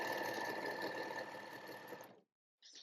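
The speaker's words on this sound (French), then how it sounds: "faire un petit zigzag de la machine à coudre sur le bord du tissu" Sewing machine running a zigzag stitch along a fabric edge, a steady close mechanical whirr with a high whine that stops abruptly, then a brief short restart after a pause.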